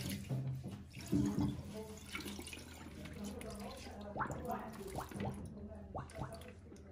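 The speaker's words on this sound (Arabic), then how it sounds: "نغير الميه" Water runs and splashes into a container during a water change, a steady wash of trickling and dripping that comes in shifting bursts, with voices heard faintly underneath.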